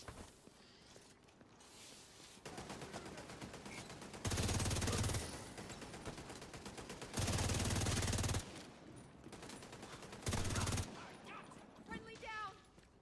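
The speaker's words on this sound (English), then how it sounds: "I hear a turret." Automatic turret fire in The Division 2 comes as three loud sustained bursts of rapid shots, each a second or so long, broken by stretches of quieter game noise and sporadic clicks.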